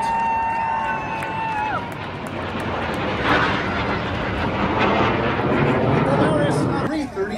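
A Royal Canadian Air Force CC-330 Husky tanker flies past with two CF-188 Hornets during a Canada Day air parade in Ottawa, a broad continuous jet roar swelling overhead beneath a French-speaking commentator and crowd noise.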